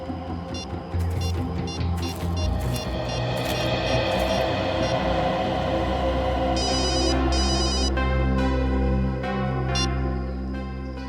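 A telephone rings in repeated bursts over a loud, steady engine-like hum, fairly close and prominent.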